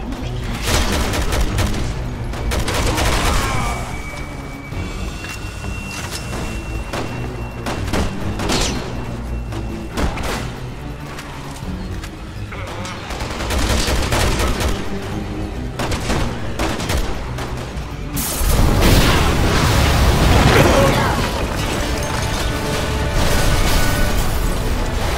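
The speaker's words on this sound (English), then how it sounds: "Someone shoot the gas! We can blow these things to kingdom come!" Rapid gunfire rattles in dense bursts through a Resident Evil 6 firefight. A heavier booming blast hits near the end as gas explodes, loud and close with no talk over it.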